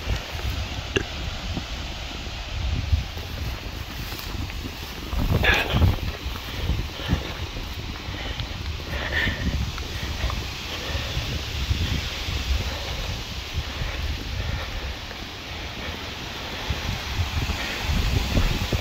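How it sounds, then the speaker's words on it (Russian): Steady, strong wind roars across the microphone beside open water, a constant blustery rush with gusts swelling and fading throughout. "Ветрище того какой бузует."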